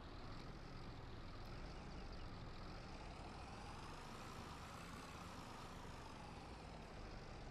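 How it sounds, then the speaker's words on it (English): Heavy tractor engine in No Man's Land labouring under load, a steady dense low rumble that holds constant and loud throughout with no talk over it. "I don't know if this thing's, like, working our tractor this hard, or why we just can't accelerate"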